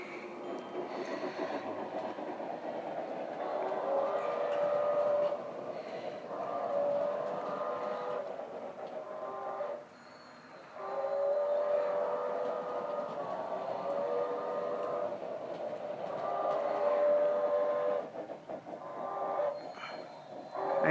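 Model steam locomotive with a smoke unit running on an indoor apartment layout, a faint continuous mechanical whir and rail clatter with repeated soft whistle-like tones, dipping briefly near the middle.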